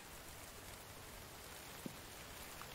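Steady rain falls in the survival video game The Infected, a soft, even hiss with one faint brief knock partway through and no talking.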